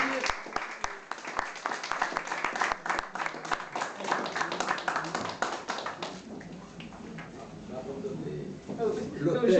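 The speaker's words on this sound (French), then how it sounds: "On va applaudir." A small audience claps at a French cultural association event, distinct individual claps at first building into a scattered round, with voices murmuring underneath as the applause thins.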